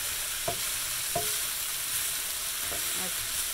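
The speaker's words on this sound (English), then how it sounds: "I'm going to stir in the lentils, coat them with the vegetables." Lentils being stirred into sizzling vegetables in a pan: a steady fry hiss with a few soft scraping strokes of the spoon, close and alone.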